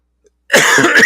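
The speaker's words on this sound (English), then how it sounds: "coughing right into that microphone" A single loud, close cough straight into a microphone, sharp at onset and sustained briefly, preceded by near silence.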